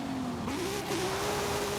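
A high-performance car in Forza Horizon 5 revs its engine in a continuous, loud drone, the pitch dipping briefly then climbing and holding steady as the motor pulls.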